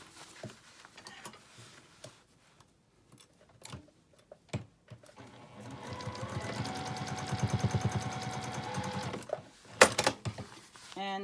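Sewing machine stitching a small essential oil or nail polish pouch, a rapid rattling run of needle strikes lasting a few seconds, set among quieter handling clicks and taps.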